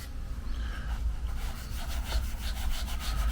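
Pastel being rubbed into paper to blend a sketched walking trail in a morning landscape, a steady soft scraping texture that keeps going alone at close range.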